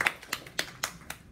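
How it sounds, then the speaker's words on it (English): Five or so sharp hand claps in a steady, even rhythm, faint and close, from a small group in a facial hair application class. "We're going to give her a round of applause."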